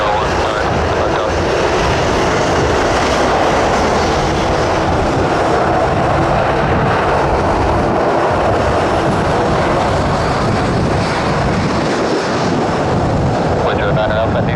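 Antonov AN-12B turboprop at Dublin Airport in strong wind, a loud steady broadband engine roar filling the whole clip with gusty rumble underneath and no clear pauses.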